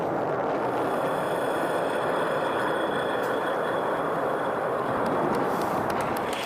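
SpaceX rocket main engine hovering with gimballed pitch and yaw and cold gas roll thrusters: a steady, loud, continuous roar and rumble with no breaks.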